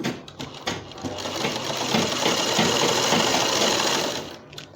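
A sewing machine runs steadily through fabric while stitching a dupatta, a loud, close whirring hum that builds after a few start-up clicks, holds for several seconds, then winds down.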